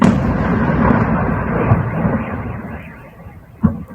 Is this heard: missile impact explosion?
yes